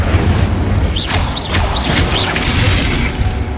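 A spell-casting effect from the video game Hogwarts Legacy fires off: a string of quick whooshing bursts and chirps over a steady low rumble of game ambience and music.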